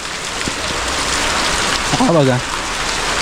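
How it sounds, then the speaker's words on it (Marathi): A loud, constant downpour roars close by in a mango orchard while a person briefly speaks over it. "आता पावसाने जोर पकडला आहे"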